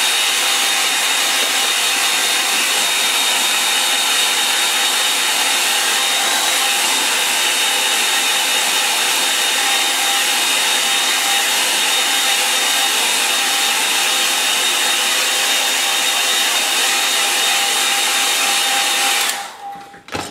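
A hair dryer dries watercolour paint on paper, giving a loud, steady, close whir that runs without a break for about nineteen seconds with no talking, then cuts off abruptly.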